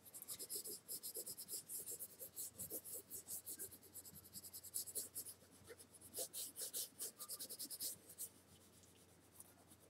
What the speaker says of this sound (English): press down more on the point of the pencil